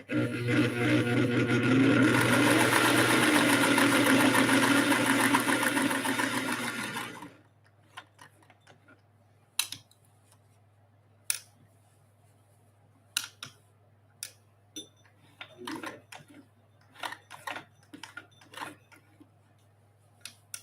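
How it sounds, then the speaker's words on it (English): Sewing machine stitching a quilt, running loud and continuous for about seven seconds, then stopping, followed by scattered sharp clicks and taps of handling the fabric and machine. "you don't have to have an expensive sewing machine to do this"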